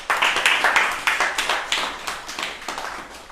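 Audience at a church service clapping loudly in a fast, steady rhythm of sharp claps that runs the whole time and fades slightly toward the end.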